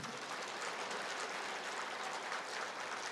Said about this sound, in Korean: 하늘에 계신 노아 할아버지 위해서 박수 좀 쳐드리세요.